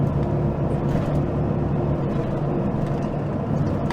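A four-wheel-drive pickup truck driving on a mountain highway, with a steady, close engine and road rumble that holds an even level throughout.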